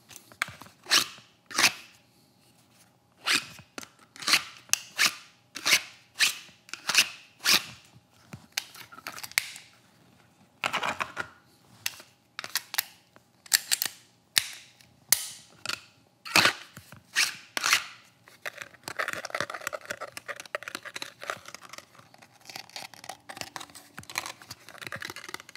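Tapping and scratching on tactical gear and a Kydex holster: a long run of crisp, close clicks and taps in irregular bursts, with a rougher, steady scratching stretch near the end and no voices.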